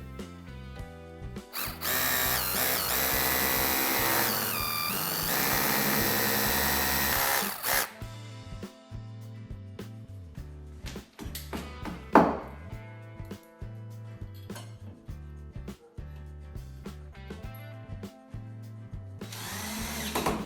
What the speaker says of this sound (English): So now we can drill these two